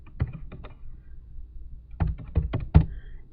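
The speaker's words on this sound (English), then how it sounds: "You type in your number, and then you type in your password." Computer keyboard keys pressed to enter a login number and password, a short burst of quick clicks, a pause, then a second cluster of sharper taps, close and fairly quiet.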